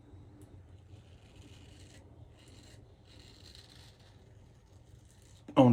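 A razor slices through lather in soft, close rasping strokes, several short bursts of light scraping during a wet shave, ending in a sudden louder knock.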